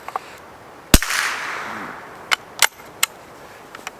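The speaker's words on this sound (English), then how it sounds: "A few more and then fire. I'm just firing downrange." A Schultz & Larsen Otterup rifle fires .22LR rounds downrange: one sharp, close crack, followed by a few lighter snapping pops spaced irregularly over a few seconds against quiet outdoor background.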